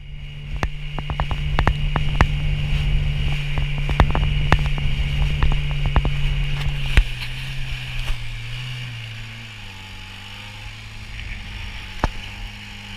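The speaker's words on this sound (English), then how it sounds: "we kept having problems with the Dinghy Outboard" A small dinghy outboard motor drones steadily with a low hum, then its pitch drops and wavers as it sputters toward idle, with occasional clicks and knocks, the motor repeatedly dying.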